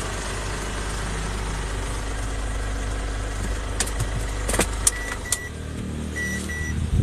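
A Ford Everest engine idles steadily and loudly at close range after a Blackcore engine treatment, with a low constant rumble, a few metallic clicks and jangles toward the end, and no voices.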